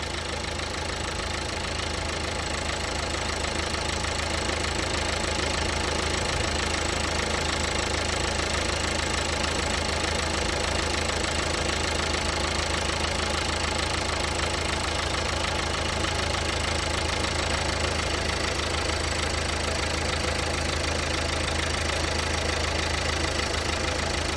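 A Nissan Sunny with 3.4 lakh km on it and a high-smoke problem idles steadily, its engine note close and constant with an even hum and faint knocking texture throughout.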